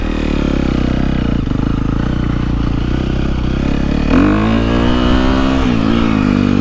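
Dirt bike, a KTM 350SXF or Gas Gas MC350, ridden around a motocross lap, its engine loud and close throughout, a steady drone that rises in pitch as the rider accelerates, with no talking.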